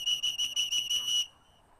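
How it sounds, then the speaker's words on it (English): At a retriever field trial, a handler's whistle sounds in a rapid string of shrill, piercing blasts to the dog, then stops abruptly into near silence. "Every whistle, two faults"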